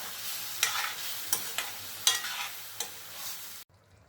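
A yogurt and gram-flour mixture is stirred in a hot pan for taro-leaf curry, giving a steady soft sizzle punctuated by a handful of sharp spoon scrapes and knocks against the pan, before it suddenly goes quiet.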